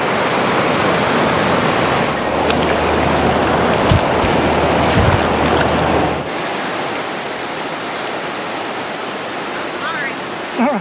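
River water flows steadily at Simpson Lake Park, a loud, dense rushing roar close by, with some wind buffeting the microphone and a brief low hum in the first half.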